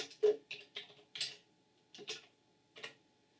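Keys clacking on a vintage MGT Sam Coupé home computer keyboard, a handful of separate sharp taps spread unevenly with short pauses between them, close and fairly quiet with no voice.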